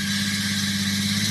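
A JDM-swapped Nissan 350Z engine held steadily at about 3,000 RPM, a constant close-up drone with a stable tone and no change in pitch across the short stretch.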